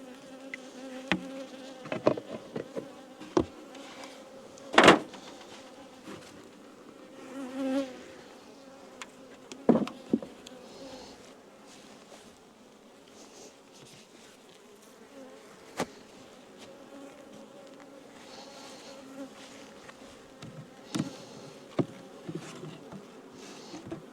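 Bees hum steadily around beehives recently moved from a nucleus colony, a close, continuous buzz broken by occasional sharp knocks and clicks from handling the hive boxes.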